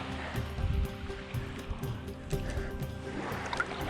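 Water laps and burbles around a kayak paddling off Bellevue Beach in Trinity Bay, Newfoundland, in calm conditions at slack tide, a close, continuous wash with soft splashes from the paddle strokes.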